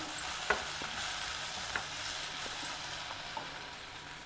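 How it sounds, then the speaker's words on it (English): Bhindi (okra) fries quietly in a pan with a low steady sizzle, while a spoon stirs it and clicks against the pan a few times. "give it a good stir. It needs to cook a little more."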